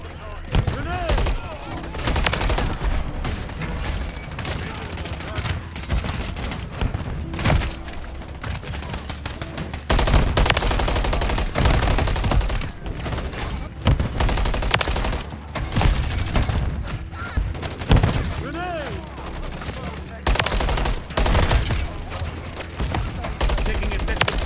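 Rapid automatic gunfire crackles through a Call of Duty firefight, dense sustained bursts with booming shots and barely a pause, loud and continuous, with voices calling out beneath the shooting.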